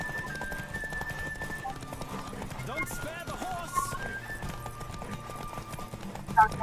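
Rapid hoofbeats of a horse galloping during a hunt carry on steadily with an occasional whinny, close and moderately loud, while people talk over them.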